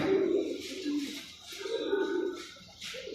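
Soft, low pigeon cooing repeats in rolling phrases, close by, with faint higher chirps in the background.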